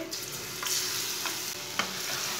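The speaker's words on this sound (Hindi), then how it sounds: "सब चीज़ों को 1 मिनट तक भून लेंगे। चूल्हे की आंच को थोड़ा सा कम रखना।" Whole cumin, coriander seeds and crushed garlic fry in oil over low heat, a steady close hiss with a few soft stirring scrapes and no talk.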